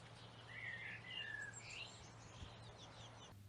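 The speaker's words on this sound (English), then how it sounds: "here is a video my friend caught whilst watching some blue-tipped birds in his garden" Faint, distant bird chirps and short calls from blue-tipped birds in a garden, scattered over about a second and a half against a steady low hum, with no voices.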